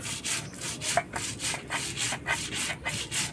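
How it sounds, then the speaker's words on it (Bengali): Small china punti fish being rubbed by hand with turmeric and salt, close up, with steady rhythmic rubbing and squishing strokes repeating about twice a second and no voices. "এখন মাছগুলো হলুদ লবণ দিয়ে মাখাই নিব।"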